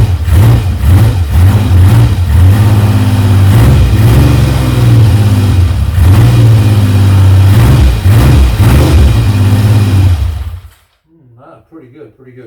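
A vintage British motorcycle engine, either a Triumph Trident T160 or a Norton Commando 850 MkIII, idles loud and close with a rough, pulsing low rumble, then shuts off into near silence.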